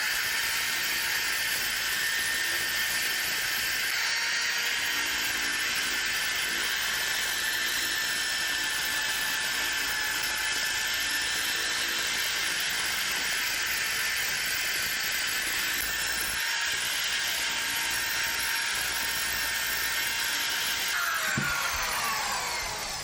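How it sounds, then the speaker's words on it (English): A disc sander with 60 grit paper works on small freehand-carved wood pieces, giving a steady, loud whirring grind that holds for over twenty seconds, with slight shifts in pitch as pieces are pressed in and pulled away. "So that was a 60 grit with the disc sander"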